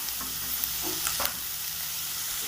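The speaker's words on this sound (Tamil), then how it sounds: "வெங்காயம் 1 நிமிஷம் எண்ணெயில் வதக்கி விட்டாச்சு." Chopped onion, green chilli, ginger and tomato sauté in hot oil with a steady, close sizzle, broken by a few soft scrapes and knocks of stirring.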